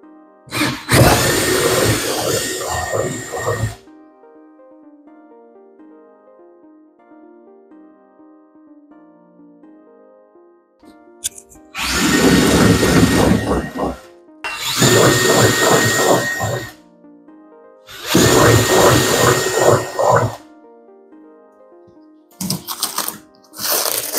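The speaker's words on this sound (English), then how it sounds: "I can't believe I just drilled into my brand new car" A power drill whines in several loud bursts as it drills into the body of a Toyota A90 Supra to mount a carbon fibre spoiler, separated by quieter stretches of soft background music.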